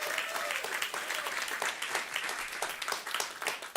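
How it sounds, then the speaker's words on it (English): Audience at a food and health event in a WNYC hall applauding, dense steady clapping from a crowd filling the whole stretch at close range. "Please give them a huge round of applause."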